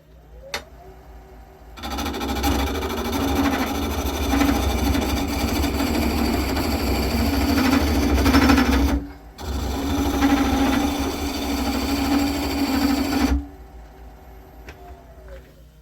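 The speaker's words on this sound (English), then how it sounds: "we'll give it a go on the lathe, see if it's worth carrying on with" Wood lathe turning ash with a homemade roughing chisel made from scaffold tube, a loud steady machine hum with scraping cutting noise running for about eleven seconds, briefly interrupted once, between quieter stretches.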